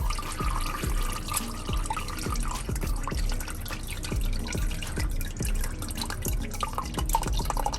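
Engine oil drains from a Subaru during an oil change, falling in a run of quick, fairly regular drips and splashes into a catch pan, faint and close with no talk over it.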